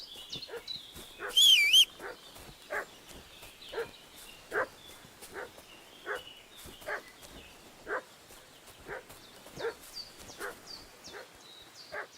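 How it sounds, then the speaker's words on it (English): A dog in Kingdom Come: Deliverance II barks repeatedly at moderate distance, short evenly spaced barks with a brief whining yelp near the start, over a quiet outdoor background. "What's that dog making such a fuss about?"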